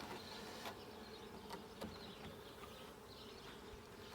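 Honey bees buzz inside a hive in a steady, faint, close hum that continues throughout, with a few light clicks and no voices.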